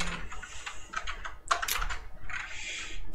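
Someone types on a computer keyboard at a desk, with irregular bursts of close, crisp key clicks separated by brief pauses.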